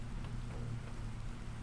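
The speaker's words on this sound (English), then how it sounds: "Like in-game rain." Steady in-game rain from The Planet Crafter, a low continuous hiss with a constant droning bed, even and unbroken throughout with no voices.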